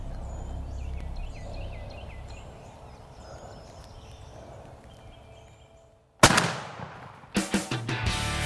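A single loud gunshot is fired at a turkey on a golf course. It cracks sharply after a stretch of quiet outdoor birdsong and is followed by a few scattered thumps and rustles.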